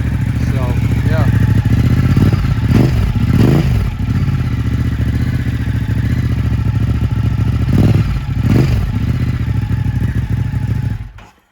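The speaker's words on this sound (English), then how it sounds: "So that's the way it sounds. Full titanium exhaust, sounds really cool." A Ducati Hypermotard 939 SP with a full titanium exhaust idles with a deep, steady rumble, blipped into several sharp revs in pairs, the engine close and loud before cutting off at the end.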